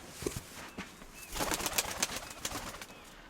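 Pigeons in a loft coo in soft, repeated bursts while waiting to be fed, with a brief flutter of wings in the middle and no talking, heard fairly close and quiet.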